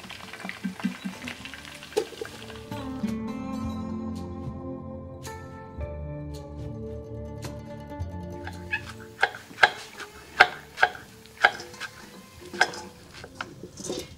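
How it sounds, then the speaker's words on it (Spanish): A knife chops onion for rattlesnake in mango habanero salsa, starting as sparse cuts and then settling into a steady run of sharp, evenly spaced chops over a background melody. "Y vamos a cortar un poquito de cebollita."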